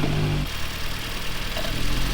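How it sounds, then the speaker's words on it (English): A Nissan Sentra autocross car's engine runs steadily close by while a throttle wiring harness is jiggled, a continuous low engine drone with slight swelling in pitch and no clear sharp rev. "when we jiggled this harness, it made a weird noise and revved the engine up"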